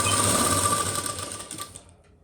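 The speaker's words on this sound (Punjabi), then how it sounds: "ਉੱਪਰ ਹੀ ਲੈਸ ਰੱਖ ਕੇ ਇਹਦੀ ਸਲਾਈ ਲਾਈ ਜਾਣੀ ਹੈ" A sewing machine stitches lace laid straight onto plain fabric, a steady close whir that runs loud and alone before slowing and trailing off near the end.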